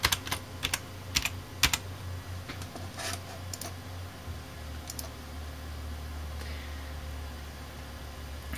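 Quiet typing on a computer keyboard while entering a username during Windows 10 setup, a few quick bursts of key clicks early on, then a low steady hum from the machine.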